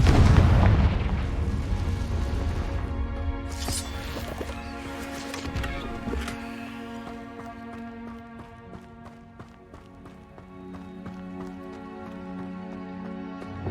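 A Confringo fire spell blasts in the video game Hogwarts Legacy as a loud, booming explosion at the start that fades into a rumbling tail, with game music behind it.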